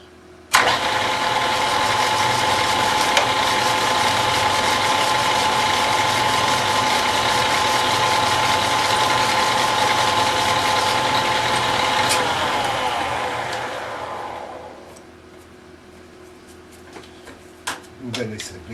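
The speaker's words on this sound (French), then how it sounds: "on va faire un petit nettoyage du filetage pendant le retour" A lathe cleans the thread of a motorcycle steering tube during its return pass, with a loud, steady mechanical whir and ringing hum that runs for about twelve seconds before winding down into quieter clicks and shop noise.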